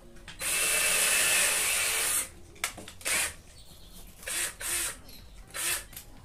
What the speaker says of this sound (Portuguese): Vamos fazer furo aqui com a broquinha para não estar estragando a madeira.